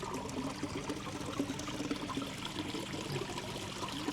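Water from a pond filter gushes out of an outlet hole, a steady, faint pouring and splashing stream that runs on without break, with no voices.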